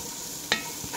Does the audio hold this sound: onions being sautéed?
yes